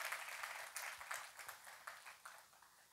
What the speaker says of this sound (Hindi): आपका स्वागत करते हैं हम तालियों के साथ